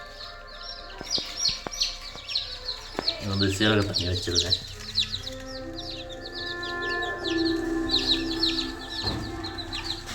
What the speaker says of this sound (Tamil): தூய சிறுவிடை நாட்டு குஞ்சுகள் இது எல்லாமே